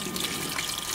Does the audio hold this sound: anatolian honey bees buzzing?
no